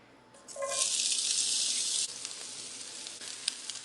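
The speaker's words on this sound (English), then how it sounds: "And then we're going to throw in our onion." Onion dropped into warm oil in a pan sets off a loud, bright sizzle that surges after a soft start, holds steady for about a second and a half, then drops to a lighter crackle with faint clinks.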